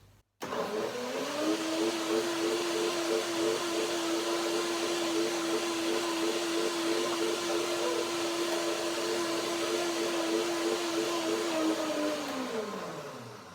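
A blender whirs steadily through a sunflower seed dressing with apple cider vinegar, salt and pepper, starting abruptly, holding one loud even motor drone for about twelve seconds, then winding down at the end.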